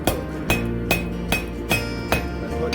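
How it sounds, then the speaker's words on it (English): A steel fire poker tip is hammered on an anvil to step it down, with six evenly spaced, ringing metallic blows about half a second apart, each followed by a bright resonant ring. "Then I'm going to step down the tip of the poker."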